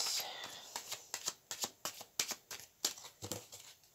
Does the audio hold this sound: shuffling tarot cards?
yes